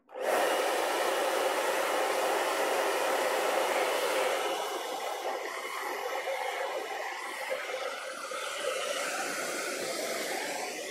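Hair dryer blowing on an acrylic painting to dry the paint, a loud continuous close-up whoosh that starts suddenly and holds steady, easing slightly partway through, with no talking.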